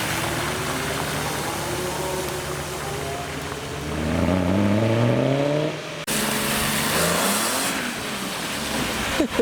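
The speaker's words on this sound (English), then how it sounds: "Next we have the E92 M3 departing, the lovely V8" A BMW E92 M3 with its V8 accelerates away on wet roads in the rain, the engine note climbing loudly through rising revs, then a gear change and continued roar amid constant tyre spray and road hiss.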